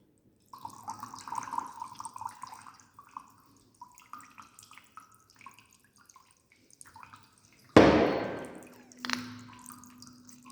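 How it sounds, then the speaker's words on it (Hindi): Water trickles and drips from a tube in small irregular bursts as a knob is opened on a resonance-tube apparatus, then a sudden louder gush splashes down before tapering off. "इस नॉब को खोल दो और पानी को गिरने दो"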